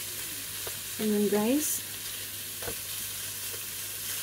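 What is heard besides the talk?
pork frying in pan to render fat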